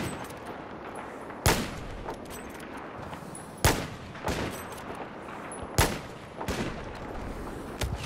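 Gunfire in the video game Battlefield 4 rings out as loud, sharp single shots spaced a couple of seconds apart, some followed by quick extra reports, over a steady background of game ambience.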